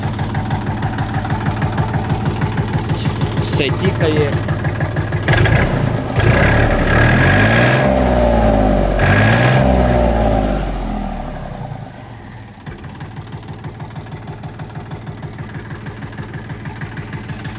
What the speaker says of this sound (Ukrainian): Бачимо, трактор працює як годинник, не курить